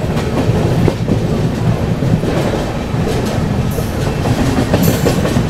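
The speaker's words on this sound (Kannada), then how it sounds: "ಇವಾಗ ಈ ಟ್ರ್ಯಾಕ್ ಚೇಂಜ್ ಸೌಂಡ್ ಕೇಳಿ" A Bengaluru to Goa train rolls steadily along the rails with a dense, continuous rumble and rattling clatter, its wheels knocking as they cross a track change, heard close from inside the carriage without talk.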